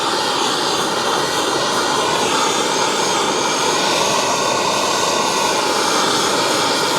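A torch heats moly steel before welding, giving a loud, steady, broadband roar that holds unbroken from start to finish with no other sounds.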